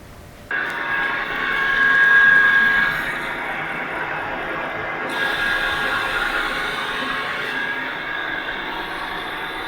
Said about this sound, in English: Now that we scared Sean, we can remove the gland nut, and that will allow us to remove the piston afterwards.